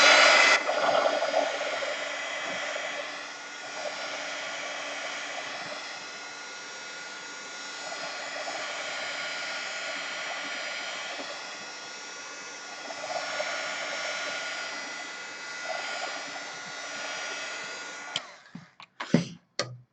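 A heat tool blows hot air to dry paint on an art piece, a loud steady whooshing roar held close for about eighteen seconds before it cuts off, followed by a few brief clicks and knocks.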